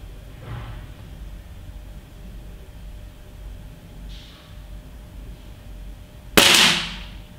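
Snowpeak SR1200S air rifle firing a pellet: one sharp, loud crack near the end with a quick decay, preceded by a couple of faint distant pops over quiet background noise.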